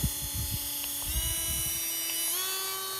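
A Hardell cordless rotary tool runs steadily at a high-pitched whine, stepping up in speed about a second in and again near the end, with a few faint knocks and handling noises underneath.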